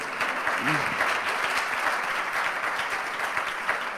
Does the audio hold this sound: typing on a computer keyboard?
no